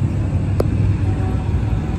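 Heavy night traffic along Taft Avenue in Manila, near Luneta Park, heard as a steady low rumble of engines that holds for the whole stretch, with one brief sharper sound rising about a third of the way in.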